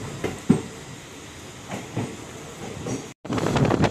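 A passenger train running near Basar railway station in Nizamabad, a steady rumbling roll with a few sharp knocks, a brief dropout, then louder, denser rattling toward the end.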